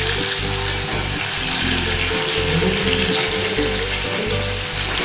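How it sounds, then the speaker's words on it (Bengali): Fish pieces fry in reheated hot oil for a Bengali winter fish curry, a loud dense sizzle close to the pan with a low rumbling hum underneath, with no one talking. "তারপরে আবার আমি বাকি মাছগুলো ভেজে নিচ্ছি"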